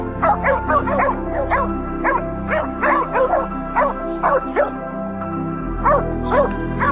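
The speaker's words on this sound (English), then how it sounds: "The dogs have him bayed in a ditch." Several hunting dogs bay and bark at a wild boar cornered in a ditch, in rapid, overlapping yelps, loud and nearby, continuing steadily throughout.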